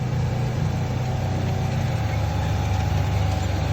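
Tractor engine running steadily while driving with a planter in the field, a constant loud low drone without change, no talking.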